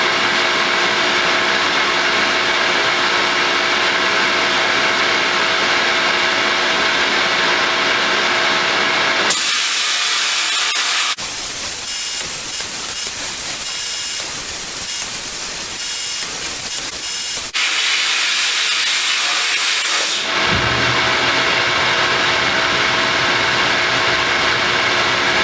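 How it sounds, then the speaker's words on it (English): Bead blasting Colt Lightning rifle parts inside a blast cabinet, a loud continuous hiss and rush of air and media that shifts in tone as the nozzle moves, running steadily with no talking. "now that we're done with the bead blast"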